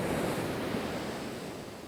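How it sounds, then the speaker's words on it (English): Steady surf washing onto Lynemouth Beach on a mild evening, a continuous broad wash of waves with some wind noise across the microphone, no voices. "we're on Lynemouth Beach"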